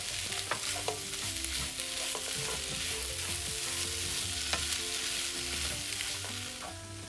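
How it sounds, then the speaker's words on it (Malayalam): Tomato and masala paste sautéed together in a pan for Kerala black chickpea curry, a loud continuous sizzle with frequent stirring clinks and scrapes close by, with no one talking. "മസാല ചേർത്തിട്ട് ഒരു 5 മിനിറ്റോളം വഴറ്റി ഇനി ഇതിലേക്ക് ഞാൻ വലിയൊരു ടൊമാറ്റോയാണ് ചേർക്കുന്നത്."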